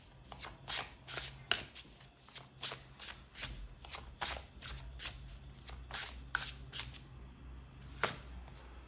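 Tarot cards are shuffled by hand before an advice card is drawn, heard as a quick series of crisp riffling snaps and soft slaps, about a dozen in an uneven rhythm, close and quiet with no voice.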